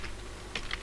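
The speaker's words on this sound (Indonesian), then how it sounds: "langkah berikutnya yaitu kita ketikkan IP" A few keystrokes on a computer keyboard while entering an IP address during Debian 10 gateway setup, two or three quiet clicks over a steady background hum, no voices.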